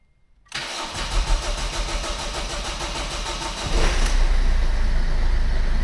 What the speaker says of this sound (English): this is the first time I'm trying to start it